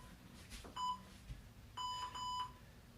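A workout interval timer beeps faintly, a short beep followed a second later by a cluster of two or three quick electronic beeps, over quiet room noise during an isometric exercise session.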